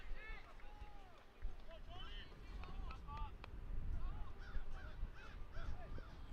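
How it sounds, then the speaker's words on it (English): Crows cawing around an outdoor soccer match at TWU in Denton, Texas, several hoarse repeated caws at a moderate distance, heard under a commentator's voice and faint field noise. "Crows out here in Denton."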